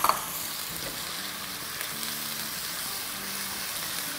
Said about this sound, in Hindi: प्याज़ें जो है हमारी हल्की सी बादामी हो गई है तो इसमें अब हम डालेंगे 3 टमाटोज जो कि ग्रेट कर लिए हैं